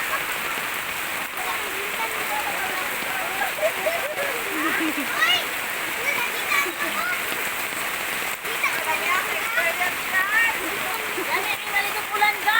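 Steady rain pours onto surfaces in a neighbourhood, a continuous close patter with splashing, while voices talk and laugh over it throughout.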